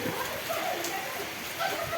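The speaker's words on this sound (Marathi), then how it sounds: "आज मस्तपैकी पाऊस चालू आहे" Steady rain falls throughout, a continuous moderate hiss and patter of drops with no break.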